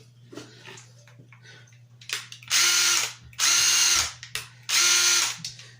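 A DeWalt 12V Xtreme 3/8-inch impact wrench fires in three loud, rapid hammering bursts of about a second each, separated by short pauses, over a steady low background hum and some light handling clatter.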